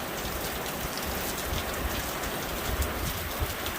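Steady rain pattering on an observation shelter in a park meadow at Allegany State Park, a dense continuous patter with scattered louder drips, close and even throughout.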